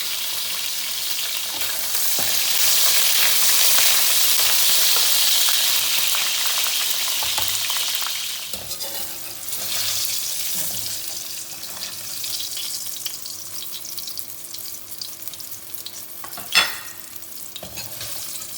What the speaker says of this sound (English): Now we will fry the eggplants